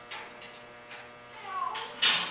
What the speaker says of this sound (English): Here's our shop kitty.